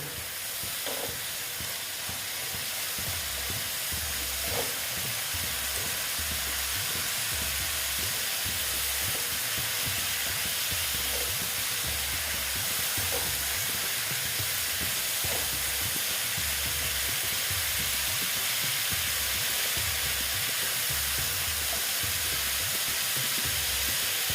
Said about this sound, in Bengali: এবার আমি এটাকে ভালো মতন কষিয়ে নেব